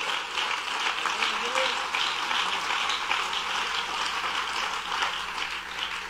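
An audience claps steadily in a church-like gathering, a dense even wash of applause that holds for several seconds at moderate distance.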